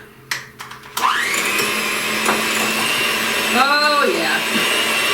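Electric hand mixer whipping a peanut butter and brown sugar cream cheese dip, a few knocks and then a loud steady motor whir that shifts pitch partway through, alone without talk.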